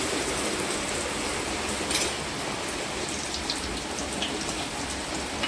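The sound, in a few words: deep frying jackfruit prawn chops in oil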